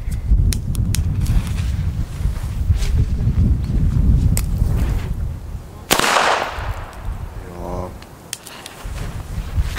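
El Gato Masclet Faller firecracker of 3.15 grams bursting outdoors: one sharp, loud crack with a brief echo tail, set against steady wind-like noise and a few scattered clicks before it.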